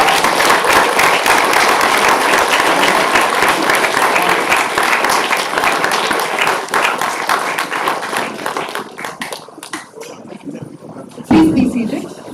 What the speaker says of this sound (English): stand up and give a big round of applause